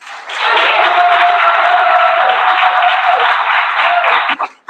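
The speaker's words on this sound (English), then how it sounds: "give them a round of applause again" Crowd applauding at a political candidates' ratification rally in Abaco, a loud, dense, even roar of clapping sustained for about four seconds before cutting off abruptly.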